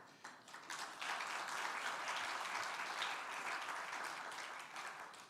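An audience applauds at a university anniversary celebration for Ashesi University: dense, sustained clapping that swells after a second and holds steadily before easing slightly toward the end.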